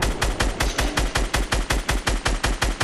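Rapid automatic gunfire in the video game Fortnite, a steady burst of about fifteen evenly spaced loud shots over a few seconds, with no talk over it.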